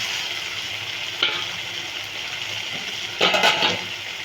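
Onion, masala and chopped tomato fry in a pan, a steady close sizzle with two brief stirring bursts, a short one early and a louder, longer one near the end, no talking.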